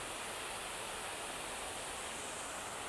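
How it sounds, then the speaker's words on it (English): A waterfall pours in a continuous, dense roar of rushing water, steady and close with no pauses. "we're at one of the waterfalls"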